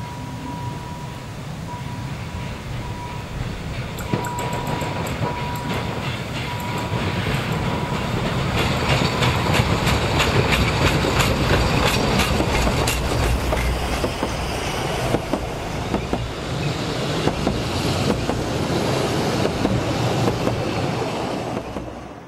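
Narrow-gauge steam passenger train on the Zittau railway in autumn, rolling past with steady clickety-clack of wheels over rail joints, a brief whistle tone early on and continuous loud running noise throughout.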